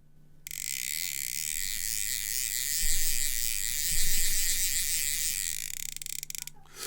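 A steady, high mechanical ratcheting buzz from a tuned Doyo Koba 4 lightweight fishing reel that runs continuously, close up, with a couple of faint knocks partway through.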